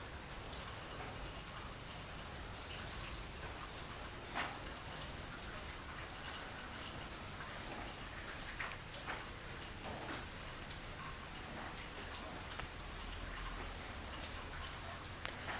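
Steady rain patters and ticks on surfaces, a dense even hiss of drops with occasional sharper taps, no voices.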